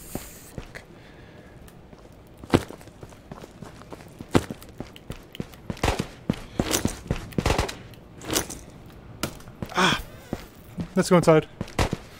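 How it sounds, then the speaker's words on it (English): Gunfire crackles in the video game Ghost of Tabor: scattered sharp shots and short bursts, some close and loud, mixed with footsteps and a voice talking. "Someone's shooting at me."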